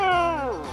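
Tofu, an animated cartoon kitty, lets out a single loud, drawn-out meow with a falling pitch, close up and alone without talk.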